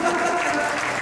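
A short burst of clapping from a crowd after a marimba performance at a rehearsal event in Quiché, Guatemala, steady and fairly loud throughout.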